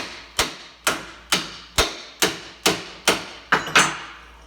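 Hammer tapping a worn-out u-joint from a Polaris Ranger held in a vise: nine sharp metallic blows at a steady rhythm, close and distinct, each ringing briefly before the next, with no talking.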